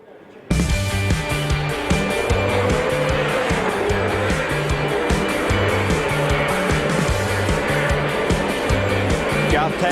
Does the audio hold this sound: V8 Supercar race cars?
yes